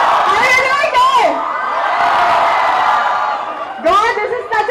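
A large college fest crowd at Mithibai College cheering and whooping loudly, with bursts of high shouts at the start and end around a steady roar of crowd noise, all close and intense.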